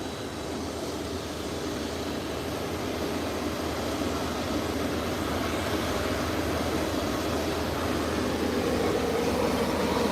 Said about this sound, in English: Use less than half the runway, and it's already off the ground and in the sky.